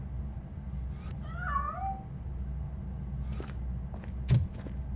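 A cat in the video game RoboCop: Rogue City gives a couple of close meows over a low, steady rumbling ambience, ending with a brief thud.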